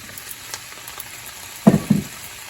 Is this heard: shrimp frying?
yes